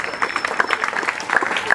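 Audience applause for a student at a school event, the Collège Bienheureuse Anuarite in Congo: steady, moderately loud clapping from a crowd with a few sharper claps standing out, plus some voices mixed in.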